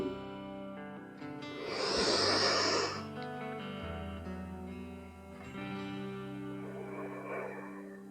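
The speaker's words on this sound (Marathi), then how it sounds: "शक्य होईल तितका पूर्ण श्वास घेण्याचा प्रयत्न करा श्वास घ्या हातांकडे पहा श्वास सोडा" Deep breaths drawn in and pushed out during a morning stretching exercise to shake off laziness. Two long, breathy rushes of air, each lasting a couple of seconds, sit over a steady musical background.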